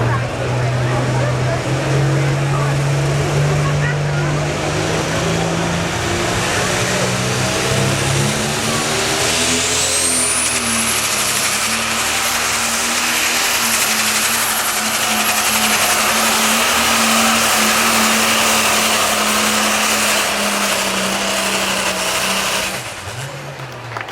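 A super stock tractor with an ailing engine roars at full power during a tractor pull at the 2016 Columbia County Fair in Chatham, New York. The engine drones loud and continuously, rising in pitch midway, with an announcer talking over it.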